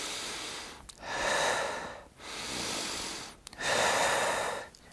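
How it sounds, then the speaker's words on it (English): Someone demonstrates shallow breathing into the top of the lungs with quick, loud, close breaths. Three airy inhale-exhale bursts are separated by brief pauses. "not breathing into the top part of our lungs, which would be shallow breathing, and it would look like this"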